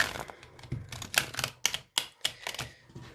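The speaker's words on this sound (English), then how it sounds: "Excuse my terrible shuffling right there." Slippery, fairly new tarot cards being shuffled by hand: a run of sharp, crisp riffling clicks and slaps in irregular bursts, close and fairly quiet, with no talking.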